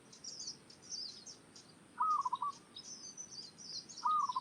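A zebra dove gives two brief, soft trilling coos a couple of seconds apart, clear against a quiet outdoor backdrop of distant higher chirping birds.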